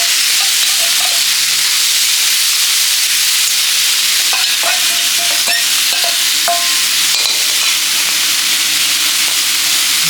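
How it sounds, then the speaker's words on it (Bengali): Dried fish (kachki) sizzles and crackles steadily in hot oil in a wok, with a dense bright hiss throughout and occasional clinks of stirring near the middle, with no talk. "এখন হচ্ছে কাকসি মাছটা ভেজে নিব।"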